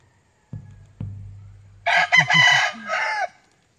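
A laying hen clucks close by in a short burst of several agitated, rising calls, preceded by two soft thumps and a low hum.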